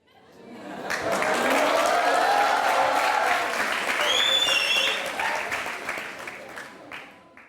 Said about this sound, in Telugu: వాళ్ళంతా ఇప్పుడు మీకోసం చప్పట్లు కొట్టారు.